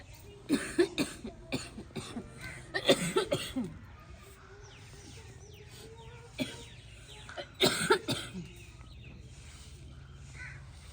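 A woman coughs from smoke in a village mud-house kitchen, with several clustered fits of harsh coughing separated by quieter stretches. Birds can be heard faintly in the background.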